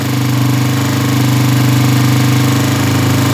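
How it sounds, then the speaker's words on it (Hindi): A Honda CG125 petrol motorcycle engine running at raised revs after a mixture adjustment, a loud close steady thumping drone with rapid regular pulsing and no talk. "इसकी रेस मज़ीद तेज़ हो गई है"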